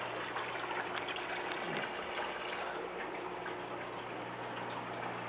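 Water pouring steadily from an aquarium overflow pipe into the tank, a continuous close splashing gush with air bubbling, no voices.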